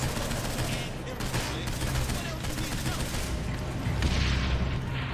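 Heavy RPG rocket launcher fire and explosive blasts in the open-world action game Saints Row IV, dense and continuous with a louder booming burst near the end, with a voice faintly present underneath.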